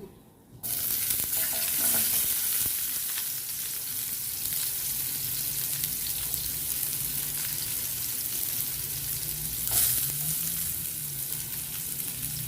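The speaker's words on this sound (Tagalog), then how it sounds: "Doon tayo sa pagisa ng ating onion." Onion sautéing in hot oil in a pan, a loud continuous sizzle that kicks in suddenly and holds steady, with faint stirring scrapes and no voices.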